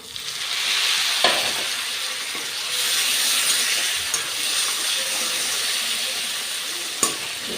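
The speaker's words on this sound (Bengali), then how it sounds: "এই পেঁয়াজ রসুনটা সুন্দর করে ভেজে নিতে হবে" Chopped onion and garlic fry in a pan over a gas flame in a home kitchen, giving a loud, steady sizzle and hiss with a few sharp clicks and stirring knocks along the way.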